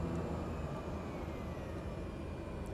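Cockpit engine drone of an airplane taxiing onto a runway in Microsoft Flight Simulator, a steady continuous rumble and hum with no variation, heard alone.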